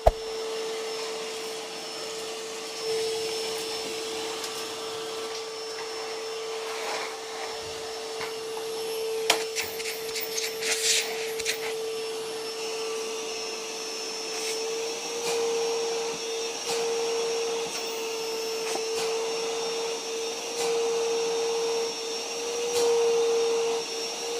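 An Einhell TE-VC 2340 SA bag vacuum cleaner runs steadily with a constant high whine, its pitch shifting slightly as it sucks up dust, with brief rattles midway.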